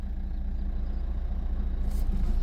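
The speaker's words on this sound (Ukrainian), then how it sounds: "Всі контролічки запустився двигун наш" A 2010 Renault Megane with a 1.5 dCi diesel engine idles just after starting, a close steady low rumble with an even pulsing throb and no talking.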